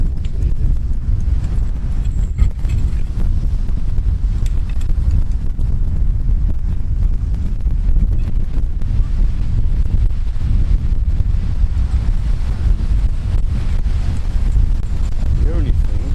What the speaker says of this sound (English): Windier than I was hoping, but what can you do?